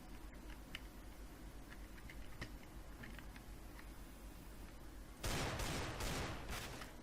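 Near the end, a sudden loud burst of gunfire erupts in Counter-Strike: Global Offensive and lasts almost two seconds. Earlier there are faint clicks and taps over a low background hum.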